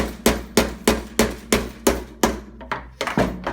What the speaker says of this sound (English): you just got to drive that out with a punch